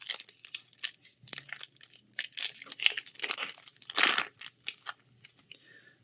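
A March of the Machine card booster pack is torn open up close, with its foil wrapper giving sharp crinkles, rips and crunching rustles in quick irregular bursts against a quiet background.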